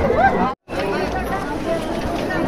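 A packed crowd fills the grounds of the Baba Sailani temple during Holi, giving a loud, steady babble of many overlapping voices. A close voice speaks over it, and there is a brief dropout partway through.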